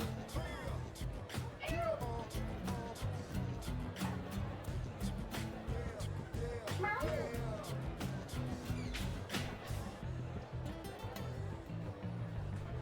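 Bilbo the cat meows repeatedly and insistently after hearing the other cats fed, several drawn-out cries scattered over a busy, noisy background with a person talking at times.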